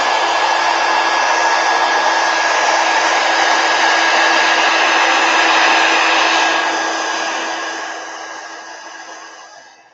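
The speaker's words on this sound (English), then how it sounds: "let me hit this with a heat gun because the dots are drying" A heat gun drying watercolor paint dots gives a loud, steady whooshing blower roar with a faint whine that runs unbroken, then fades as it moves away or powers down near the end.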